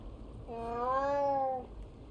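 A cat in the video game Dragon Age: The Veilguard gives a single drawn-out, clear meow lasting about a second, close and alone over faint background ambience.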